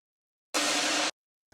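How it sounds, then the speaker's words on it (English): An exhaust noise sample used as a white-noise layer in a production: a single half-second burst of dense, even hiss that starts and stops abruptly, played alone and loud, then silence. "And then to add a little bit of noise, I just have an exhaust."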